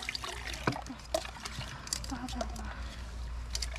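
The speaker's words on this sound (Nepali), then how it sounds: "पानी सिम सिम सिम सिम परिरहेछ" Light rain drizzles at a campsite, a steady soft patter and trickle of drops with occasional splashes, while voices murmur faintly underneath.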